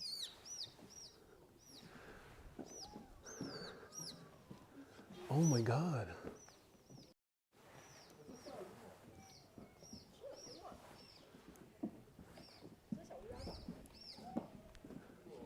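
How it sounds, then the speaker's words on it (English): Small birds near the Mont Blanc cable car summit, about 3,800 m up in the French Alps, give repeated thin high chirps throughout, with people talking and a loud excited exclamation over them. "Ooh, birds, oh my God."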